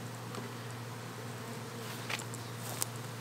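Bees hum and buzz in a steady, faint drone around an open-air hive being removed outdoors, with a few tiny ticks and taps over the continuous swarm.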